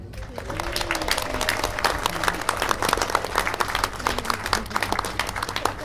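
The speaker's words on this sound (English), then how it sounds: "So I think a round of applause will be needed for 4 of the most handsome, pretty people in the room." Wedding guests applaud steadily at a reception, a dense wash of many hands clapping with some cheering and chatter mixed in, sustained and fairly loud throughout.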